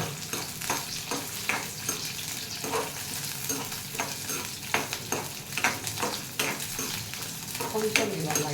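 Onions and green chillies fry in a pan, with a constant sizzle broken by repeated scrapes and clinks as a spoon stirs them against the metal.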